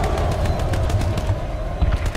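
Rapid machine gun fire in the online shooter Planetside 2, a dense rattling burst of shots continuing throughout, loud and close with no talking.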